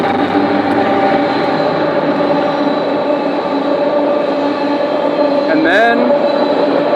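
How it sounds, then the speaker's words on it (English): A train passing by, a loud, continuous rumbling roar with steady droning tones that fills the whole stretch, a brief squeal near the end, and someone briefly speaking over it. "after this train goes by"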